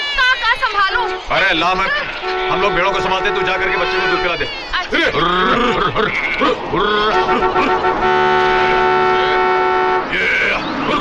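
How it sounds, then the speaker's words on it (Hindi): Horns blare repeatedly on a road where sheep block the way, loud sustained honks overlapping with each other while people talk loudly over them throughout. "इडियट्स, हॉर्न बजा रहे हो, सुनाई नहीं देता है क्या?"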